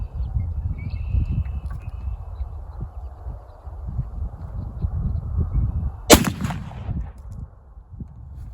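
A single sharp report from an 1892 lever-action rifle chambered in .357 Magnum cracks out loud and close partway through, standing out over a steady low outdoor rumble and wind.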